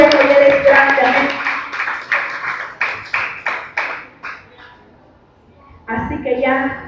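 A church congregation applauding, a dense burst of close, loud hand claps that thins into a few separate claps and fades to quiet before a voice starts speaking.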